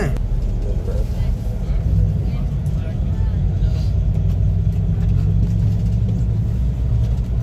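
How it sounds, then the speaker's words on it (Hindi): A car crosses a bridge, its engine and tyres producing a steady, heavy road rumble throughout, with voices murmuring underneath. "हमारी गाड़ी ब्रिज के ऊपर जा रही है।"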